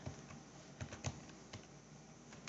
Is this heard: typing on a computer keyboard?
yes